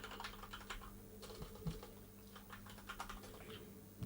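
Rapid typing on a computer keyboard, a steady patter of key clicks with a few louder strikes, close and quiet over a low background hum.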